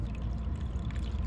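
Water is poured in during repair of an LG window-type air conditioner, a short low gurgling pour, fairly faint and continuous.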